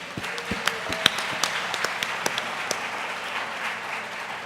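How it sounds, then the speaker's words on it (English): An audience at a workplace happiness summit applauds a speaker, a dense, steady wash of many hands clapping in a hall with sharper individual claps popping out, sustained throughout and fading slightly at the end. "Let's give him another round of applause."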